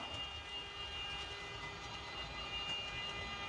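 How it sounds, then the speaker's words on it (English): A Roco model train locomotive hauls a line of steel coil wagons, making a steady motor whine and rolling rumble that stays continuous and close, with no talk. "It's like as if it's struggling to pull all those steel coil wagons"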